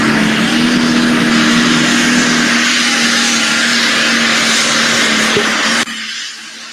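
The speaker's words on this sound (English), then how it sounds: "There is no shortage of horsepower and RPM on that tractor right there." A pulling tractor in Jefferson, Wisconsin roars at high RPM, a loud, sustained engine drone with a steady hum that holds for about six seconds before dropping off sharply near the end.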